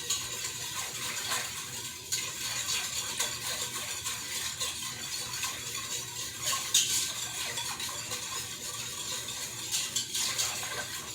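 A utensil stirs turmeric-seasoned pepper canning brine in a bowl with continuous light clinking and scraping, steady and close throughout, with no talking.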